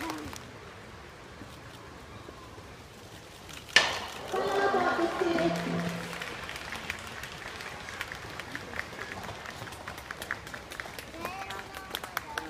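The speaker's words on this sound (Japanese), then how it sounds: "大きな拍手をお願いいたします。" Audience applause breaking out at a yabusame horseback archery display at Omi Shrine, a sudden swell of clapping that fades over several seconds under an announcer's voice, with open-air crowd ambience.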